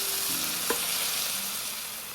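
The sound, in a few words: tomatoes frying with ginger garlic paste in pan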